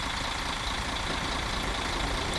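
The diesel engine of a coach bus in Fernbus Coach Simulator, heard from an external view, gives a steady, broad idling rumble with no one talking.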